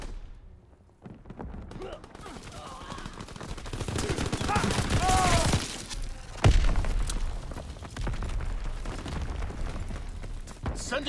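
Mortar rounds and gunfire pound a Call of Duty: WWII multiplayer match, with a dense rattle of shots swelling into a heavy impact midway, then continued rumbling bursts. A voice talks faintly underneath.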